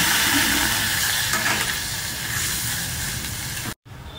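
Water is poured into a pan of simmering egg curry gravy, a steady hissing, bubbling rush that holds for several seconds and then cuts off abruptly.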